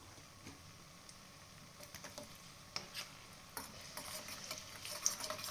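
Raisins frying in a pan for sweet pongal give a faint, quiet sizzle with scattered crackles and small ticks that build slightly toward the end, with no voices.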